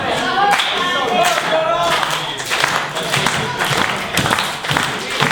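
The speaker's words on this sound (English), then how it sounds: "Crowd trying to motivate David Francisco to end this match." A wrestling crowd at a live show in Addington claps in quick rhythmic bursts and cheers, with a commentator talking over the applause.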